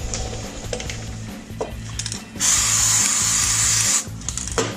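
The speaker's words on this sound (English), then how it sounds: "So we're going to go ahead and apply some chain lube" Chain lube hisses from an aerosol can onto a motorcycle chain in a steady burst of about a second and a half, close by, between whirring bursts of a tool or turning wheel.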